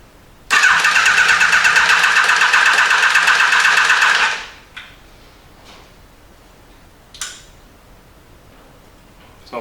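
Yamaha FJ1200 motorcycle with an electrical fault starts up and runs loud and steady for about four seconds before cutting out, followed by a few faint knocks and clicks.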